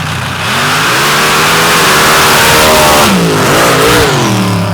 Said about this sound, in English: One of the only Ford-powered machines in the field, a 540 cubic inch Ford Boss engine with a 3-disc slipper clutch and a 1-speed transmission.